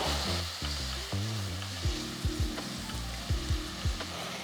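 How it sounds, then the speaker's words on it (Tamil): Steady frying sizzle of tomatoes sautéing in a pan with intermittent stirring and clinking of a utensil, close and continuous, no voices. "தக்காளியை ஒரு ரெண்டு மூணு நிமிஷம் வதக்கணும்"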